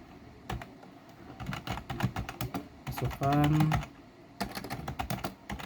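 Rapid, uneven clatter of fingers typing on a computer keyboard while writing a for loop in code, close and crisp with short bursts and brief pauses, plus a sustained tonal hum midway.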